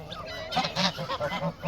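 Several Çorum geese honk close by in quick, uneven bursts, a run of nasal calls following a quieter start.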